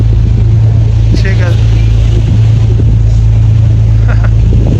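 A tour boat off Newport Beach speeds over swells with a loud, constant engine rumble and wind buffeting, while voices briefly cut through the roar.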